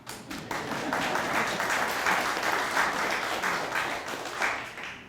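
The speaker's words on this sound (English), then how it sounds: "Can I have a clap?" An audience at a sports hall of fame induction ceremony applauds in a dense, steady round of clapping lasting several seconds, heard from within the hall.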